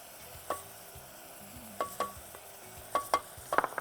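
Chilli powder and coriander powder stirred in a hot pan, a handful of short scraping spoon strokes, some doubled, over a steady low sizzle, close and without talking.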